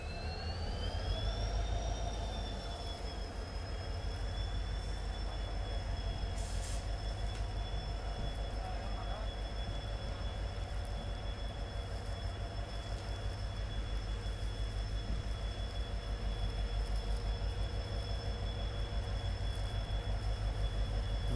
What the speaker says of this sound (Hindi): इसी के साथ हमारा डिपार्चर भी स्टार्ट हो गया है मकराना जंक्शन से